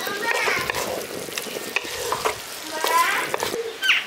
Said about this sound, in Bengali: গরম মশলার গুঁড়োটা দিয়ে আরেকবার মিশিয়ে দিচ্ছি